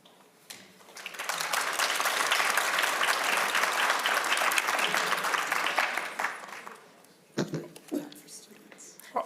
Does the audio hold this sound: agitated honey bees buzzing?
no